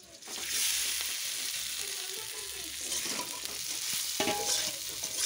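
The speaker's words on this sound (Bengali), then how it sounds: "তেলটা আমার গরম হয়ে গেছে। এবার আগে থেকে মেখে রাখা পুরটা আমি দিয়ে দেবো।" A mashed green pea filling for Bengali kochuri fries in hot oil, a steady close sizzle with spatula scraping and stirring clatter running throughout.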